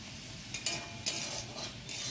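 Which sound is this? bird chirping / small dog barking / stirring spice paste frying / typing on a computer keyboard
stirring spice paste frying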